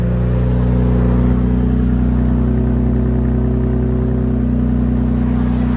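A 2025 RAM 1500 with a 3.0L twin-turbo Hurricane I6 on straight pipes idles close by, a loud, steady, deep rumble with an even pulsing rhythm and a slight rise in pitch midway.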